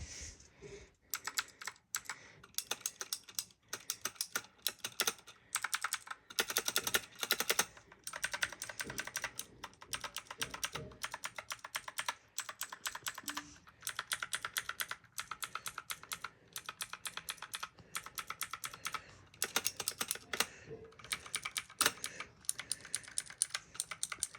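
Clicky blue-switch mechanical keyboard typed steadily for a long stretch, a dense stream of sharp, bright clicks with irregular short gaps, heard close and alone.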